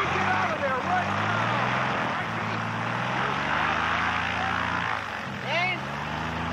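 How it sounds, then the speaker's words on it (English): Propeller airplane engine droning loudly and steadily nearby, its pitch wavering and shifting, while people shout over it. "Stop the plane!"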